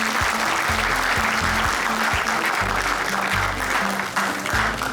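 An audience applauds an institute at a rice-conference event, with steady, dense clapping that fills the room and runs without a break.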